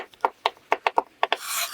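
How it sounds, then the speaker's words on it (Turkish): A knife finely chops chocolate on a board, about ten quick crisp cuts in an uneven rhythm, close up, ending with a brief scraping rasp. "Çikolatayı ince ince doğrayın"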